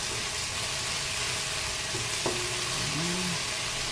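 Tomato sautés in a pan for an egg omelette, giving a steady, even sizzle throughout, with a faint brief whine near the end.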